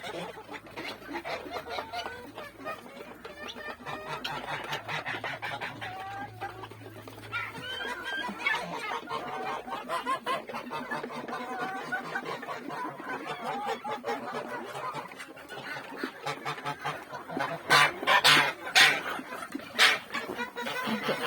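Chickens and young chicks cluck and chatter in a poultry yard, a dense, busy mix of overlapping calls throughout.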